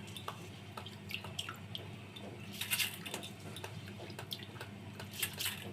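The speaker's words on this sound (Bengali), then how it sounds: "এখন একটা ছাঁকনিতে দিয়ে জলটা ঝরিয়ে নিব।" Washed rice drained through a strainer in a home kitchen, water trickling and dripping steadily at close range with a soft, continuous splashing wash.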